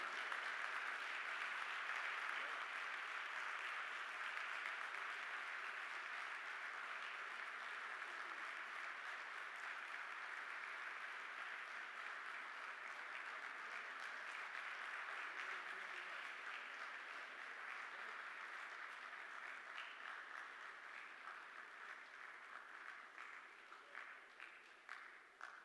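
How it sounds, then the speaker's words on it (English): Audience applause fills a large hall at a team awards event, a broad, sustained wash of clapping from many hands that stays steady for over twenty seconds before thinning and scattering at the end. "clap for them because this is the team who is doing it for you"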